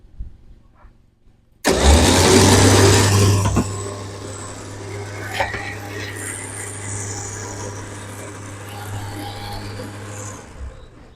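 An electric winch powered by a 12.8V 100Ah lithium iron phosphate battery kicks on abruptly with a loud whir, then settles into a steady mechanical drone for several seconds before cutting off.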